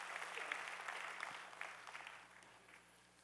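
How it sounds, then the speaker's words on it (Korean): A church congregation at a Sunday service applauds in a quiet, distant wash of clapping that swells briefly and then gradually fades. "우리 주의 이름으로 힘내시라고 우리 한번 박수로 격려합니다"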